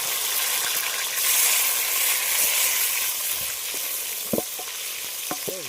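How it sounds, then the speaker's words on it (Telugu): Onions fry in a pan over a campfire during forest camping, a steady close sizzle with occasional stirring scrapes and a few short clinks near the end. "ఇప్పుడైతే ఉల్లిపాయలు వేసేస్తున్నాం"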